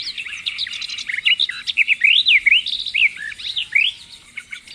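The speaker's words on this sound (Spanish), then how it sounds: "Los pájaros cantan muy bien." Countryside birds sing close and clear, a busy stream of varied chirps, trills and whistled phrases that rise and fall, with no talking.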